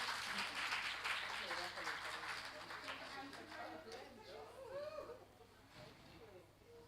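An audience claps at an early childhood education conference panel, a broad burst of applause that is loudest at the start and fades under someone talking over it.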